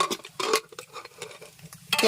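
A pressure cooker lid is opened by hand while cooking a Kerala village-style snake gourd curry, giving a few close metallic clanks and scrapes of lid against pot, with two sharper bursts near the start and end.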